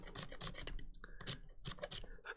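A seam line removal tool rasps in short repeated strokes across a plastic miniature model part, close and fairly loud, with brief pauses between scraping passes.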